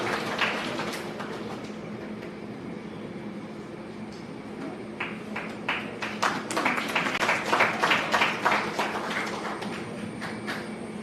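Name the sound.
audience applause at a law lecture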